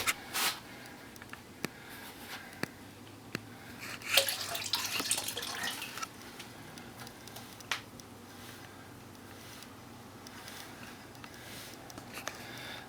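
Water sloshes and trickles in a gold pan being shaken down during gold prospecting in New Hampshire, with soft splashing and dripping that swells briefly in the middle, then settles into a quiet, steady wash with occasional small clicks.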